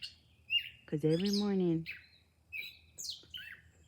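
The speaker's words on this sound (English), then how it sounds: "Sometimes I think that must be a female bird because she's awfully loud" Loud early-morning bird calls: bright chirps and squawks sound close by, with a strong harmonic call near the start and scattered sharp tweets afterward, while a person speaks briefly.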